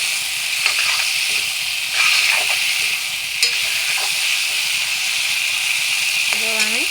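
Onion and ginger-garlic paste fry in oil beside boiled potatoes with a steady close sizzle, broken by a few soft stirring scrapes and clinks.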